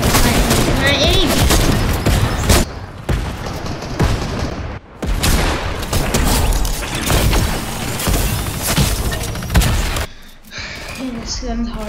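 Dense gunfire and bursts from a shooting video game, loud and nearly continuous with brief pauses, a player talking over the shots at times.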